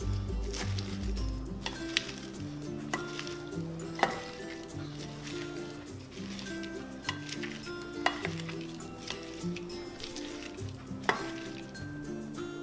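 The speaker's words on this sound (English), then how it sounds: "Mix it all around." A spoon stirs a seasoning mixture with a quarter teaspoon of pepper in a bowl for lunch, making steady soft scraping with sharp clinks every couple of seconds over a continuous low background hum.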